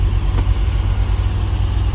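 A petrol V8 in a Land Rover Defender, fed by dual SU carburettors, idles steadily close by with a low, even rumble and no voices over it.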